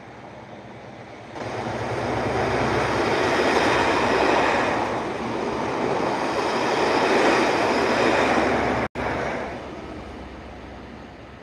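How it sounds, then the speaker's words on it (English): A scruffy-looking HST InterCity 125 passenger train roars past nearby for several seconds, with a loud sustained rumble and rushing wind that builds quickly and then holds, with no talk. "And here it is. A scruffy looking HST."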